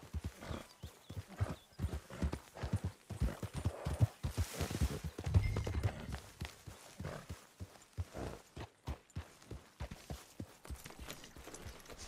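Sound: horse hooves in a video game

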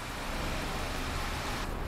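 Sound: rain and thunderstorm in bus driving video game The Bus

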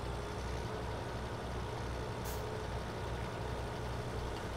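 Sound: tractor engine in video game Farming Simulator 17

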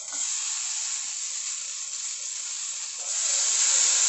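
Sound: sautéing green chillies in a pan for shahi paneer

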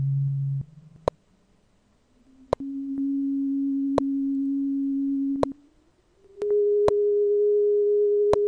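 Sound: sine tone from Overtone Analyzer software

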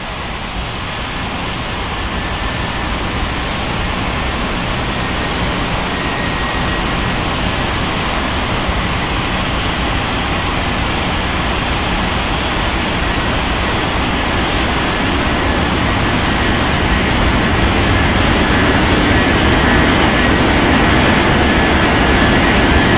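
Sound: airliner taking off from runway 20 right, Bengaluru, plane spotting

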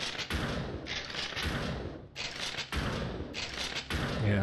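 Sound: shotgun-like weapon firing in video game Dead Cells

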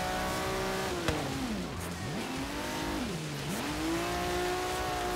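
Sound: car engine revving in video game Forza Horizon 3

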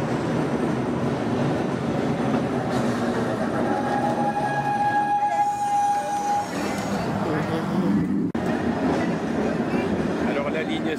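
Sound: St. Charles line streetcar rattling along, New Orleans

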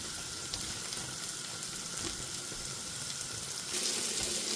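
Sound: onion, garlic and green chili frying in a pan

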